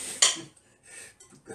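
A whisk or utensil clinks against a bowl while an egg mixture for milk tart is beaten, a few short scraping taps and clicks with brief pauses between them.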